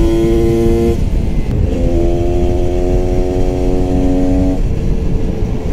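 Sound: two-stroke motorcycle engine revving

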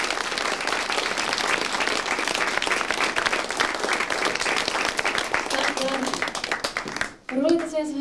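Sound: audience applause at jazz concert

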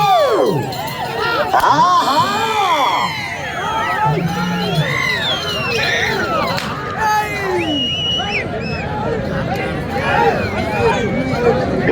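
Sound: loud shouting and clapping of the crowd at a bullock cart pulling contest

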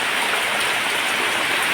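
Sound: heavy rain

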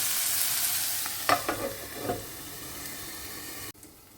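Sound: dry prawns frying in a covered pan

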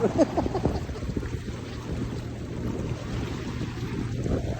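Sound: big waves splashing against a boat in a flood

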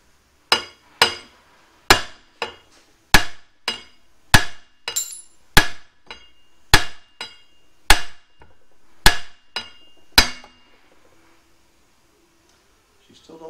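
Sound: hammer tapping on car axle

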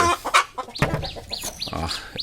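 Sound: chickens clucking at hill poultry market

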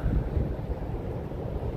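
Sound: wind on the Oregon coast

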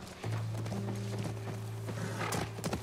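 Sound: horse hooves clip-clop in video game

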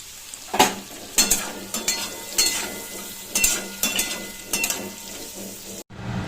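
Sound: frying carrots in oil with flour and tomato

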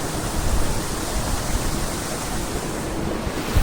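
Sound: waterfall

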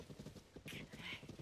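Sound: horse hooves and neighing in Zelda: Tears of the Kingdom video game

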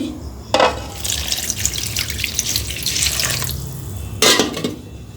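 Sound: water being poured into pot

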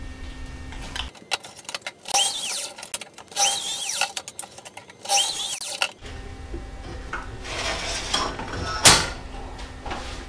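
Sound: cutting PVC pipe with a pipe cutter

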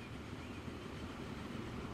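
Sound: train running, from the video game Transport Fever 2

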